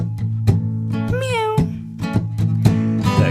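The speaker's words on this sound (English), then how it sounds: "Cat, cat, cat, cat, cat, cat, cat goes meow, meow, meow, meow, meow." A cat meows repeatedly, several short near calls in quick succession with one longer, wavering meow in the middle, no talk.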